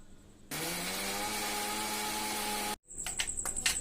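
A mixer grinder loudly grinds dried red chillies, ginger, onion and tomato into chutney, a steady whirring roar running for about two seconds before cutting off abruptly.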